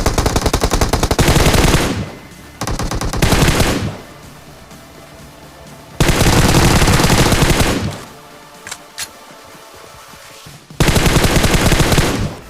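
Video game gunfire cuts down enemies in a snowy battle royale match, heard as loud, close bursts of rapid automatic fire. The sustained volleys are split by short quiet gaps, and nobody speaks.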